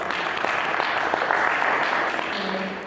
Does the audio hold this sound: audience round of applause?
yes